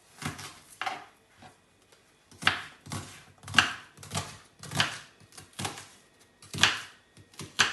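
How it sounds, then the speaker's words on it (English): A knife chopping onion on a chopping board: roughly a dozen crisp, close taps in an uneven rhythm, some in quick pairs, with short pauses between, no speech. "Making sure you're being very careful with your chopping."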